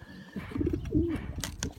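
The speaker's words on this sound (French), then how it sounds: "Donc White Walker, ce pigeon là, c'est un pigeon qui est de couleur mosaïque" A mosaic-coloured racing pigeon coos close by: a few short soft notes, then a longer rolling coo, over low background rumble and some brief higher noise near the end.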